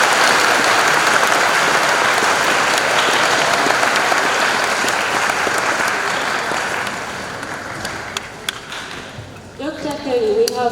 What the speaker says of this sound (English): please join me to give a warm round of applause to Dr. Kelley.